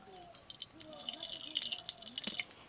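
Mustard oil poured into a cooking pan makes a quiet run of drips and light liquid splashes, close and irregular, with faint background noise.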